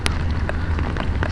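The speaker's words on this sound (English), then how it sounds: "What a rainy day." Heavy rain pours on flooded streets as a steady, close wash of noise, with scattered sharp drop impacts and splashes.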